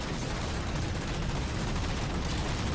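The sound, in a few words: MAC cannon firing in video game Halo 4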